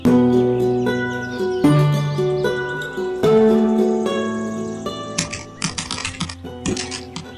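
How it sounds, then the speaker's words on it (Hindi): Typewriter keys are pressed in quick, uneven bursts of sharp clicks, heard over a steady musical backdrop. "टाइपराइटर के बटन दबने की आवाज सुनाई दे रही थी।"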